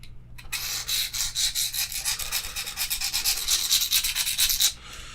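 SOG Centi I knife blade dragged back and forth across an extra coarse diamond sharpening stone, giving a close, steady rasping scrape in repeated strokes, alone with no talk.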